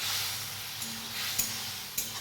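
Spice paste being sautéed with fried potatoes in a pan for a Tangra fish curry, a soft, fairly quiet sizzle broken by a few brief stirring scrapes and clicks.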